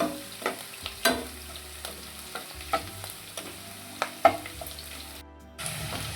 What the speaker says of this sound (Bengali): আদা রসুন আর লঙ্কাটাকে একটু লাল লাল করে ভেজে নেব